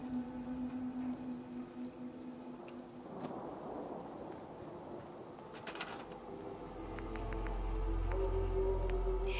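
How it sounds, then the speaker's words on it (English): Steady rain falls in the video game Fallout 4, a continuous hiss with scattered drops. Deep thunder rumbles in and builds toward the end, with no talking over it. "And now it is raining."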